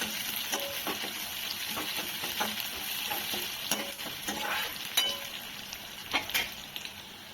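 Green chillies and onion frying in hot oil in a pan for poha, a steady close sizzle with repeated scraping stirs and occasional light clinks of a spoon against the pan.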